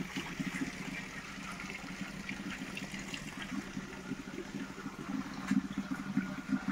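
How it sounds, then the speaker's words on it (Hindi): Water from a natural spring (dhara) in an Uttarakhand village runs in a steady, continuous stream, a low rushing and trickling flow heard up close with no voices. "ये है पानी का स्रोत जो बिल्कुल धरती के अंदर से आ रहा है।"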